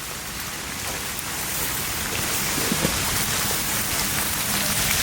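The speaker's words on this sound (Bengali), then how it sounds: "বৃষ্টি চলে এলো" Heavy rain pours down outdoors in a dense, steady hiss that builds slightly louder over a few seconds, with no voices.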